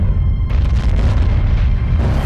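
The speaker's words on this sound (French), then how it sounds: "Ces explosions massives pourraient dévaster la Terre." A deep rumbling boom stands in for a gamma-ray burst explosion, loud and heavy in the low end, swelling after a brief quieter start and rolling on as a sustained roar.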